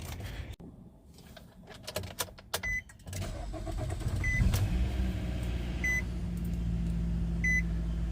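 A 2011 Nissan Rogue with the 2.4 engine after an oil change: a brief crank and rattle, then a steady low idle hum builds and holds, with a few short chime beeps, no talk.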